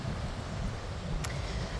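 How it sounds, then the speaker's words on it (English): Wind buffets the microphone at a hippo pool snorkeling spot on a cold, rainy day, a steady low rumbling roar that fills the whole clip with no voices. "it is freezing, it is raining, it is windy"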